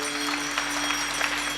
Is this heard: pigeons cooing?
no